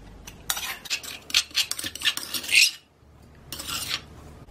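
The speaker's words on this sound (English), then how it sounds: "I am going to combine all the ingredients together" A spoon scrapes and stirs a pork mince filling with prawn, mushroom, peas, corn and carrot in a bowl, in close bursts of wet rubbing and clinking, pausing briefly before a final round of mixing.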